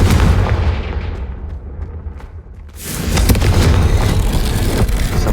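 A Confringo fire spell blast in the video game Hogwarts Legacy: a loud, dense booming roar that dips briefly, then swells back into a sustained, rumbling explosion.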